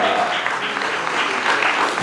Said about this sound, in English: please give a big round of applause to these champions